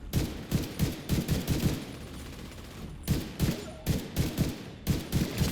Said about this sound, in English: the gun sounds, especially with a headset on, are really well done